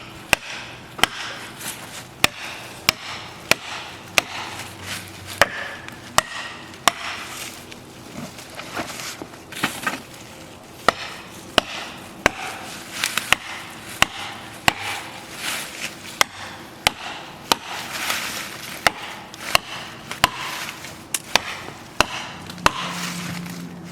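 Steel wedges hammered into a tree being felled, sharp metallic strikes landing roughly every second, ringing clearly over rustling outdoor noise, with no voices.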